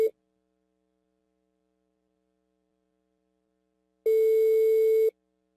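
Telephone line tone during a prank call: a brief tone blip at the start, then silence, then a single steady electronic tone lasting about a second, clear and alone.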